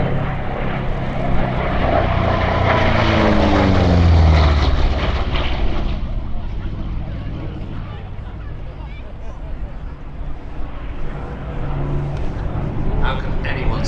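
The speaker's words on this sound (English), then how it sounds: "Sally B with her undercarriage down. She's going to be landing on the hard runway as the P51s continue there." The Sally B bomber and P-51 Mustangs at the 2024 Sywell Airshow: a loud, continuous propeller-engine roar whose pitch sweeps as the aircraft pass, then fades to a steadier drone, with a commentator talking over it.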